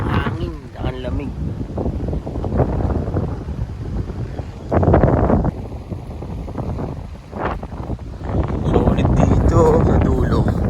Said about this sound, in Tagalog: Lakas ng hangin, ang lamig.